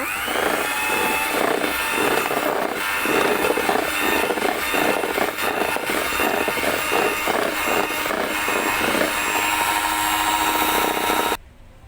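An electric mixer beats cream for a chocolate cake, a continuous loud whirring drone with a rough texture that holds steady before cutting off abruptly at the end.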